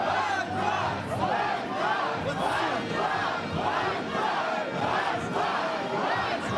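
A large crowd of protesters outside a court building in Ukraine shouts in a loud rhythmic chant, bursts repeating roughly every second as workers are forced out through a jeering gauntlet.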